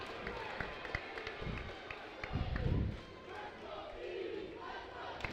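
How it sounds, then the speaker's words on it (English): Home crowd at a girls high school volleyball match between Cranston East and East Greenwich chanting in unison in a gym, a sustained rhythmic roar with a louder swell midway, alongside cheering and claps. "the Thunderstorm crowd chanting"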